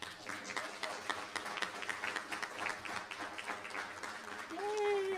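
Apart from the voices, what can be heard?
audience clapping at a board meeting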